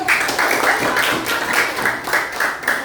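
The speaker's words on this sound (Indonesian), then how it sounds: "Oke, tepuk tangan buat mereka." A group of students gets a round of applause in a classroom, dense close clapping that holds steady for a few seconds.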